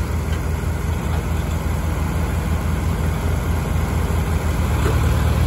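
A Ford 4610 tractor idles steadily on a farm while moving hay bales, giving a constant low diesel chug with broadband noise and no talking.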